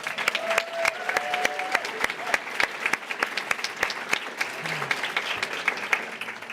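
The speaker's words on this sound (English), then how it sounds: "Let's give a big round of applause for Emily and doing this." Audience applause at a university honors convocation, a crowd clapping with sharp individual hand claps standing out near the front, continuing for several seconds while faint voices murmur underneath.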